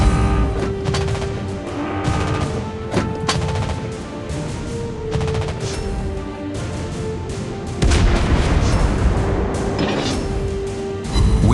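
Naval cruiser gunfire from the Dutch Tier 10 cruiser Prins van Oranje in World of Wars, a dense, loud barrage of overlapping booming shots and rapid fire that continues without a break, with no talk.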